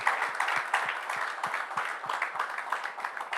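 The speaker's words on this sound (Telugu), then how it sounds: "మరి అందరూ చప్పట్లు కొట్టి దైవ సేవకులకు అభినందనలు తెలియచేద్దాం." A church audience applauds to honour the speakers after a talk on Christian apologetics. The clapping is a steady, moderately loud crowd sound that keeps going evenly for a few seconds, with a regular soft low thump in the background.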